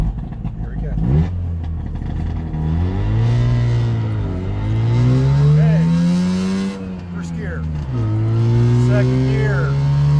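Tiny micro car engine revving hard through a full-throttle launch, a loud close buzzing drone rising in pitch through each gear, dipping at the shift and climbing again.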